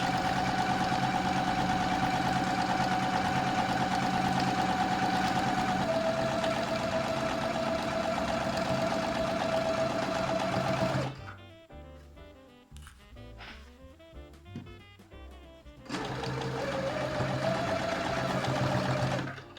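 A sewing machine backstitching at the start of a seam on apron fabric: a steady mechanical whirring hum runs for a long stretch, cuts out for a few seconds of quiet handling, then starts up again.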